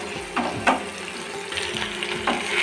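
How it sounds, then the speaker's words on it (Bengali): Chopped onions and a bay leaf fry in mustard oil in a wok, a steady close sizzle with a few soft stirring knocks, no voices. "কড়াইতে সর্ষের তেল দিয়ে পেঁয়াজ কুচি আর তেজপাতা দিয়েছি।"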